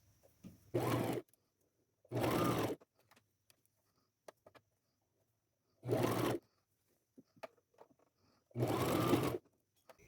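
Sewing machine stitching a velvet jacket sleeve seam in four separate bursts of rapid mechanical whirring, each about half a second to a second long, close and clear with quiet pauses between.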